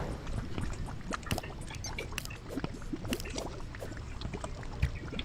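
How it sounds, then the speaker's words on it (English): A water bolt spell firing in the Terraria video game, heard as a busy run of splashy, watery bursts and trickling pops that come one after another at a steady loudness. "That's my water bolts finally showing up"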